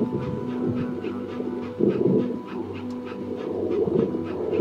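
Rapid rhythmic panting from a dog in the video game That Dragon, Cancer, close and fairly loud over a faint steady background tone.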